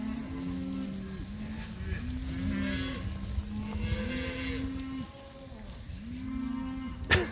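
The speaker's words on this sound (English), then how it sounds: "They're looking for their calves. I said there's going to be bawling for 20 to 30 minutes." Cattle separated from their calves bawl repeatedly on a ranch, several loud overlapping moos in steady succession, some near and some farther off, over a constant outdoor rumble.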